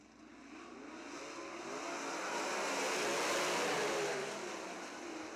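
Race cars on the oval at Crystal Motor Speedway roar together as the field takes the green flag, the engine noise swelling steadily to a peak before easing slightly, with no voices.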